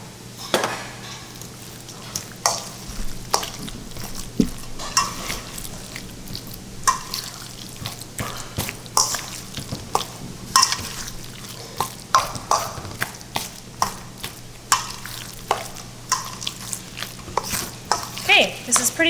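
A seasoned bean mixture with salt and pepper is stirred in a pan, giving repeated scraping and clacking strokes over a soft, steady sizzle, fairly close and without talk.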